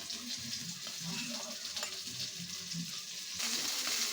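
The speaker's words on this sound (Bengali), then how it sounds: "একদম তেল কম দিয়ে বেগুনটা ভাজলাম" Thick eggplant slices fry in a small amount of oil with a close, soft, steady sizzle and occasional stirring scrapes, growing a little brighter near the end with no one speaking.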